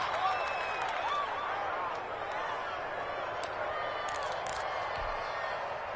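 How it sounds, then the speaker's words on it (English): Stadium crowd in a PS4 American football video game, a steady broad murmur with faint scattered cheers and claps in the background under continuous commentary talk. "The crowd may be losing just a little bit of the edge after back-to-back punts."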